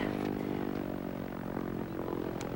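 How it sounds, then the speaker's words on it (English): The small piston engine of the Voyager aircraft, landing after its 1987 flight, gives a low steady droning putter with a faint rhythmic pulse and some clatter, heard without speech. "hear the virtual putt-putt of a small aircraft engine"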